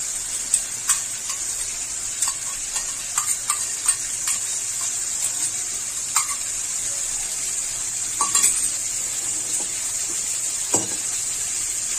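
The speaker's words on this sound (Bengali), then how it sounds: "এর মধ্যে আমি এই যে সাদা দইটা আমি ফেটিয়ে রেখেছি এটা আমি ঢেলে দিচ্ছি।" Whisked white yogurt goes into a hot pan for palak paneer and keeps up a steady, even sizzle, with scattered soft clicks and taps from the pan and spoon; no talk.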